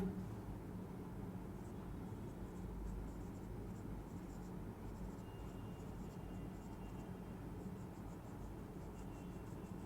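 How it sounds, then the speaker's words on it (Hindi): Faint scratchy strokes of writing on a board come in short spells over a steady low background hum, with no speech. "मैं वो भी लिख देता हूं।"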